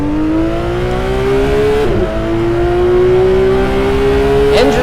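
A loud, steady Porsche GT3 RS engine in the racing game Assetto Corsa climbs in pitch through high revs, drops briefly at a gear shift, then keeps winding up, close and continuous.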